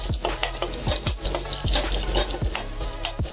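Mustard seeds, cumin and asafoetida hit hot oil in a pan, giving a steady close sizzle with regular scraping strokes of a spoon repeating about every three-quarters of a second.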